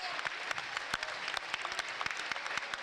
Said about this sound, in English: To a fabulous round of applause